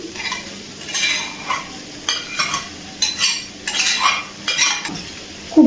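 Pre-fried shrimp being stirred into a banana flower curry in a pan, with a utensil repeatedly scraping and clinking against the metal in irregular strokes over a soft background sizzle.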